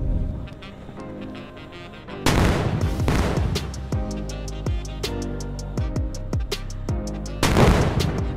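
RPG rockets blast a JCB in Indian Bikes Driving 3D, a series of loud booming explosions with sharp cracks, a heavy burst near the middle followed by several spaced impacts and another big blast at the end.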